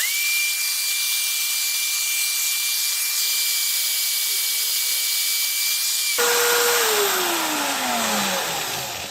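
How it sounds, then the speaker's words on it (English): Abrasive rubbing and scraping as sandpaper works a spinning titanium ring, a steady high-pitched whine holding for several seconds, then cutting off abruptly into a harsher, noisier grinding with a falling tone. "I'm going to start with the sandpaper first"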